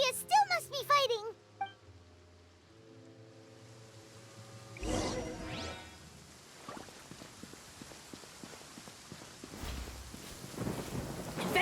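Storm weather in the Genshin Impact video game: after a brief musical chime passage, a swelling rumble rolls in and gives way to steady rain and wind, with crackling gusts rising again toward the end.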